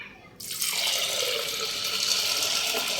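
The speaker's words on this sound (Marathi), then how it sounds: "त्यात आता आपण मगभर पाणी टाकणार आहोत" A mug of water pours onto washed chana dal in a pressure cooker, starting abruptly and running as a steady, close splashing gush for the rest of the moment, with no talking.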